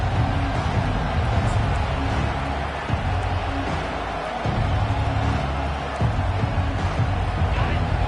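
A large crowd roars steadily at a college football game featuring the Buckeyes. The dense, continuous noise fills the whole stretch, with a commentator talking over it.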